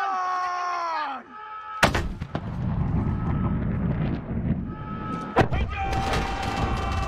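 Gunfire crackles in the Call of Duty: Modern Warfare video game: a couple of sharp, loud shots and bursts break through wind-like ambience after a fading tone, with a voice speaking.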